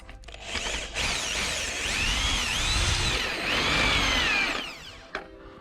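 A power drill whines loudly and continuously for about four seconds, its pitch wavering as it bites into the metal of a BMW E36 final drive, then winds down with a brief click.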